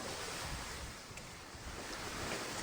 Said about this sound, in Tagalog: Lumalakas pa lalo ang hangin mga katambay eh.